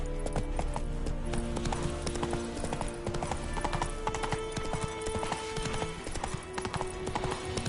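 Roach the horse trots in a video game, and the steady clip-clop of hooves rings out near and continuous, layered over ambient game sounds.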